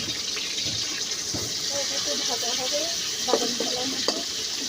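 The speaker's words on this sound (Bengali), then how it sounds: "পেঁয়াজটা প্রায় ভাজা ভাজা হচ্ছে, এখনো শেষ হয় নাই।" Chopped onion frying in hot oil in a kitchen pan, a steady broadband sizzle running throughout with occasional stirring clinks and scrapes, while a voice talks quietly in the background.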